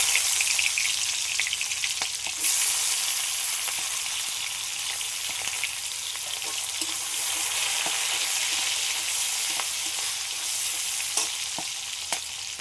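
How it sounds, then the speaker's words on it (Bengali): Chopped onion fries in hot oil, giving a steady, close hiss and crackle with occasional sharp clicks of a utensil stirring the pan, no voices over it. "তেলের মধ্যে দিয়ে দিলাম পেঁয়াজ কুচিটা দিয়ে দিচ্ছি"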